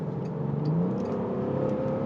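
A 2008 Bentley Continental GT Speed accelerates, its engine a steady, smooth drone with a tone that climbs as the car picks up speed, heard from inside at a moderate level.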